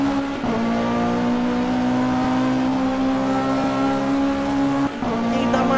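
A GT3 race car engine at Bathurst, racing uphill: a loud, steady high-revving drone climbs through the gears, with a brief shift break near the end.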